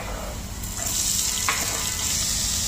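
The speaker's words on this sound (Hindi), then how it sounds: "और अब हम इसके बाद डालेंगे इसमें प्याज" Chopped onion goes into garlic frying in a pan on the stove, and the sizzle rises into a loud, steady hiss with a brief clatter at the moment it lands, close by and without talk.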